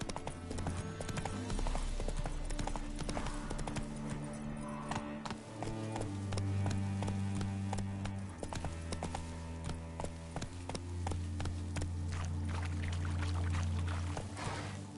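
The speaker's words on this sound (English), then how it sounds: "Come on, Roach." Horse hooves pound rapidly in The Witcher 3 as the mount gallops, a dense, continuous drumming close up under a low sustained game music or ambient drone, with no talk over it.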